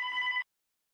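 A telephone rings with a steady electronic bell tone in a DayZ-style dystopian setting, one short close burst that cuts off abruptly into silence.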